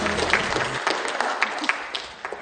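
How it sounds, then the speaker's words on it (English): A small group applauds after a light-hearted classroom competition, with dense clapping that stays fairly even throughout. "Give a round of applause"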